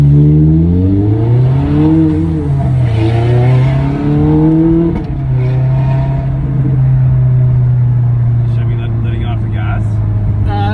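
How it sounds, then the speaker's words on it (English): Ferrari 430 engine revving through the gears while driving in West Hollywood, loud rising and falling engine pitch with shifts, then a steady drone, heard from inside the car. "if you're revving at low, I find that it shifts smoother if you lift off the gas"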